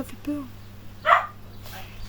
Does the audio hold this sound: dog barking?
yes